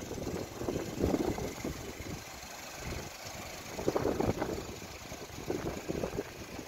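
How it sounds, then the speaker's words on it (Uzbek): A car engine idling smoothly, a continuous low, even hum with a few slight swells in level, heard close and alone without any talking. "Soatda ishlab turibdi motorlari."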